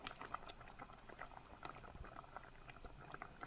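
About 600 grams of plums in 200 grams of water boil down in a pot, a steady close bubbling with soft irregular pops and gurgles.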